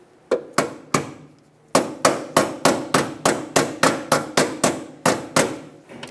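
Brake hose locking clip on a Honda Accord being tapped into place with a hammer, a steady series of sharp metallic strikes, about fifteen close blows in even rhythm after a few spaced first taps, with no talk.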